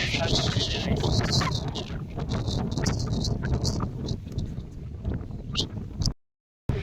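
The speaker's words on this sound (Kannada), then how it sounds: "ಗಾಳಿ ಮಾತ್ರ" Strong wind roars and buffets steadily across an open hilltop on Ramadevara hill, Ramanagara, cutting out briefly near the end.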